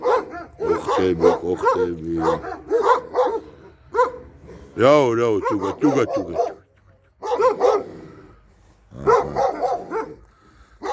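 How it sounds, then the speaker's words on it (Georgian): Dogs bark in bursts at a rural home in Kakheti, Georgia, mixed in with people talking close by throughout. "ესეთი ძაღლებია."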